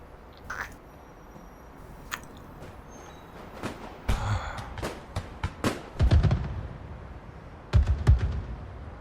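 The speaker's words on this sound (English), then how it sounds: "Fireworks." Scattered sharp booms and crackling bursts of fireworks, some distant and some nearer, arriving irregularly with a louder cluster toward the end.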